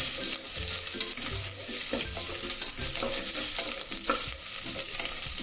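Ginger, garlic and green chilli sautéing for mutton biriyani, a steady close sizzle with repeated spatula scrapes and knocks against the pan as it is stirred, no talking.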